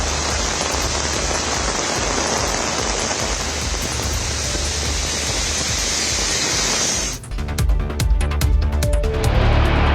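Steady rain pours down in Delhi, a dense, even hiss that holds for about seven seconds before shifting into heavier, splattering drops on a nearby surface.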